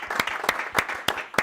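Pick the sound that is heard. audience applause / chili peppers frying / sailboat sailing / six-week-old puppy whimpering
audience applause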